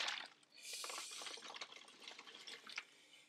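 Scorching hot water sloshes and splashes inside a bottle as it is shaken, a busy, hissing liquid churn that runs steadily for a few seconds at close range.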